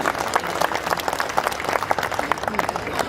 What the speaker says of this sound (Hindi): ये बहुत अच्छी पंक्ति थी, इस पर तालियां कम बजी हैं आपकी